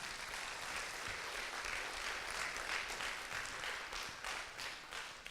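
An audience applauds at a Hague Talks session, giving a steady, fairly quiet patter of many hands clapping for about five seconds with no voices over it.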